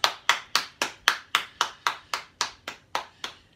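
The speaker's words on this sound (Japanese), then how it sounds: "松坂先生に、講演いただきまして感謝の拍手を送りたいと思います" Thirteen distinct hand claps in a steady, even rhythm, as an audience gives thanks after a lecture at a church fasting and prayer gathering; each clap sharp and fairly close, with no voices.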